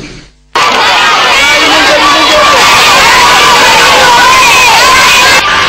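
Loud crowd cheering and shouting as the president of Niger, Issoufou Mahamadou, arrives to a warm welcome in Tessaoua; dense, continuous roar of voices and chatter after a brief quiet start.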